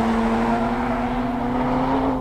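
A Porsche Boxster sports car engine holds high revs on a track with an open exhaust, giving a loud, steady, close drone with a strong tone throughout and no voices over it.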